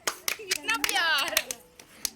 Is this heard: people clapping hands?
yes